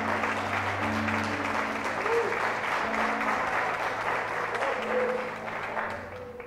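A church congregation applauds during a family worship service, steady sustained clapping filling the room with a low hum underneath, fading slightly near the end.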